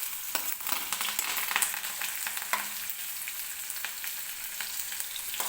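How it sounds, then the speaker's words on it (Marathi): Chopped onion sizzles steadily in a hot pan with curry leaves and cumin, a dense continuous crackle at close range with occasional soft stirring clicks throughout. "व्यवस्थित कांदा भाजून घ्यायचा आहे."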